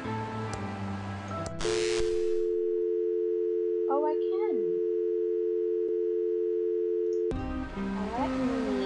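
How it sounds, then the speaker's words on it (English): Telephone dial tone in the video game Thimbleweed Park: a steady electronic hum that holds for about six seconds after a click, with faint game sounds over it, and other game noise before and after. "It's a phone."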